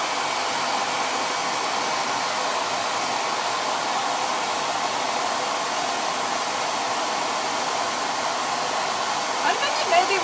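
A hair dryer blows steadily and close by for about ten seconds, drying a freshly painted craft project; the airflow roar stays even and unbroken, with no talking over it.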